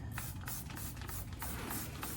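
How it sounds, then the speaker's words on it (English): Rapid, repeated hissing spritzes from a spray bottle of insecticidal soap onto a plant, a quick series of pumps close by. "I'm gonna also spray it with some insecticidal soap"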